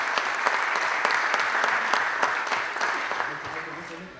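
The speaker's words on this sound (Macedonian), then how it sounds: "Ќе ве замолам со уште еден голем аплауз" An audience at a children's book launch event in Veles claps in sustained, dense applause that stays loud and steady throughout, with faint voices mixed in beneath the clapping.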